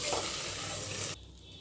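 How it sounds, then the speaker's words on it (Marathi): Rice sizzles as it is sautéed in ghee in a pan for sweet coconut rice, giving a loud, dense frying hiss that drops suddenly to a quieter crackle. "तांदूळही परतवून घ्यायचं आहे तुपामध्ये व्यवस्थित"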